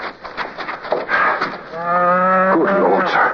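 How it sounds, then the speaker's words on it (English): A cow moos once, a long, loud, low bellow at close range that rises and then breaks off, following a stretch of rustling movement at night. "It's a cow."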